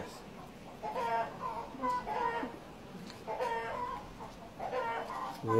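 A long-tailed Desi rooster clucks in a few short, repeated bursts at moderate distance, with quiet pauses and a low background hum between the calls.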